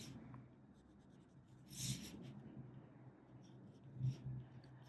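A Waterman W5 fountain pen scratches faintly across paper in a few short strokes, quiet and close, with soft rustles between them and no talk.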